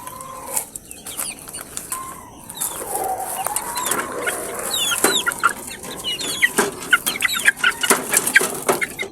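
Chickens cluck and chirp near and far, with a fighting rooster among them and larger chicks peeping in a busy, continuous barnyard chorus, with no voices.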